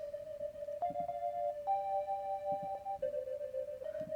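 A Serum sine-wave synth with chorus plays a short melody of four or five sustained, smooth notes that step in pitch, with faint low thumps underneath.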